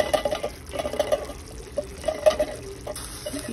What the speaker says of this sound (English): so I'm going to pour the Del Monte diced tomatoes in here now